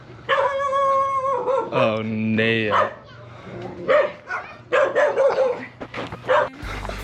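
Several dogs bark and yip near a hotel in Moalboal, with sharp repeated barks and a drawn-out whine, while a person speaks briefly over the commotion.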